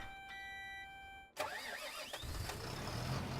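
A Lamborghini tractor engine in Farming Simulator 17 cranks and catches after a steady tonal hum, then settles into a close, even mid-pitched idle with no voices.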